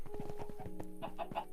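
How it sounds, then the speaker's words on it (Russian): Roosters cluck in a shower room in the Minecraft video game, a rapid, close run of short, choppy clucks and squawks repeating with no pause. "Почему у вас в душевой петухи?"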